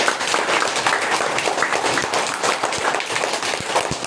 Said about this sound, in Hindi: आप सभी बच्चे खुद के लिए एक बार ताली बजा दीजिए।